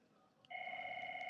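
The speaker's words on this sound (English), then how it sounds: "Now my phone's ringing." A phone rings with a sustained two-tone electronic trill that starts abruptly after a brief click and continues steadily, fairly faint in a quiet room.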